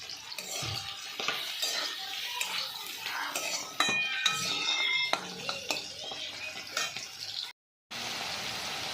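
A spoon stirs shrimp and taro curry in a pan, with metal scraping and clinking against cookware in steady, close bursts and a brief drop to silence near the end.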